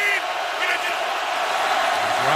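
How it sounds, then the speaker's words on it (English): Loud stadium crowd roar at an NFL game between the Green Bay Packers and Seattle Seahawks, a dense continuous wall of cheering and yelling that fills the whole moment at high level. "Again, this loud crowd."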